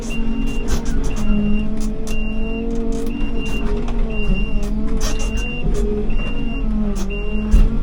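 A hired loading machine drives and reverses with a regular series of high reversing beeps repeating about every second over a steady engine rumble.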